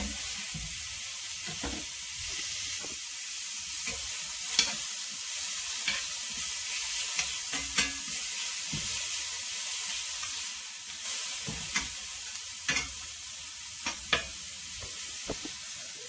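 Radishes and garlic fry over high heat in a pan salted with kosher salt, giving a continuous moderate sizzle broken by repeated stirring clicks and scrapes, with no speech.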